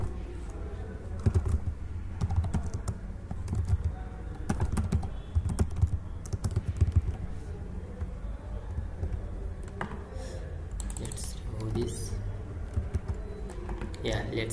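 Code being typed on a computer keyboard, a steady stream of close clicking keystrokes with short pauses, moderately loud over a low background hum.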